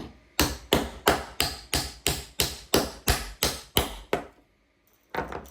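Sharp hammer blows strike in a steady rhythm, about a dozen in a row, hammering pins into a 3D-printed gunstock, then a pause before another hit begins.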